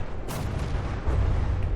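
Heavy booming warship cannon blasts in the game From the Depths, a sharp report early on followed by rumbling low thunder that keeps rolling.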